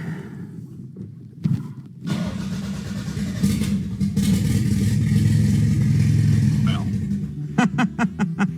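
Engine in Farming Simulator with no proper muffler fires up after a few sputters, then runs at a loud, raw, rumbling idle that swells and clatters before dropping off into sharp bursts at the end; faint voices sit underneath.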